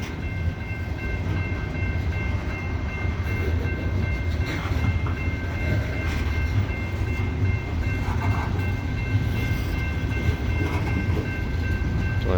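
A CSX loaded coal train crawls up Parrs Ridge with one locomotive offline, giving a continuous heavy diesel rumble and grinding wheel noise. Faint rail clicks and squeals run through it, with no voices.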